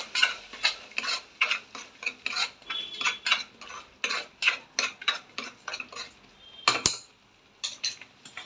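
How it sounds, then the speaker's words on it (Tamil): Ground masala paste being sautéed in a pan, heard as a rhythmic series of scraping and clinking spatula strokes against the metal with only a faint sizzle underneath, close up, no voices. "அதையும் கொஞ்ச நேரம் வதக்குறோம்."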